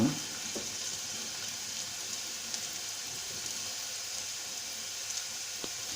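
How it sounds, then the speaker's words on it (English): Garlic frying in a pan gives a steady, close sizzle, a continuous bright crackle with a few small pops and no voices. "It's important to let it fry until the garlic starts turning a bit brown."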